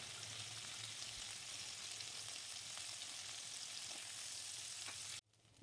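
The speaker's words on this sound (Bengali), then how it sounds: "মাছগুলো আমার ভাজা হয়ে গেছে, এবার মাছগুলোকে আমি তুলে ফেলছি।" Fish fries in oil in a pan with a faint, steady hiss of sizzling that runs continuously and then cuts off abruptly near the end.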